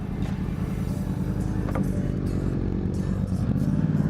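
A motorcycle on a short test ride with a young girl aboard, its engine a steady close rumble with some rattle and faint wind, holding an even pace without clear revving.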